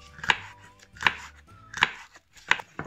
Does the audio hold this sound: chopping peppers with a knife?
yes